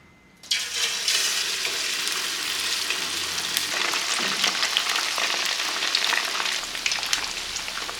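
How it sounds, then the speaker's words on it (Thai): Loud, steady sizzling and crackling of chicken frying in hot oil, starting abruptly and continuing without pause, close up. "เอาไก่ลงกระทะนะครับ"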